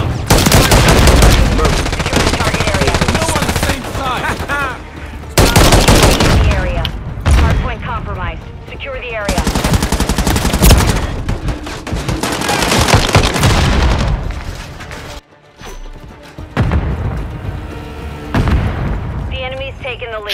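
Grenade explosions and heavy gunfire in the Call of Duty video game, with loud machine-gun bursts, single shots and booming blasts in dense clusters that break off in short gaps, while players talk over the action.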